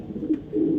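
A club racing pigeon, a 2025 bird, coos close by in low soft murmurs, with a brief fuller swell near the end.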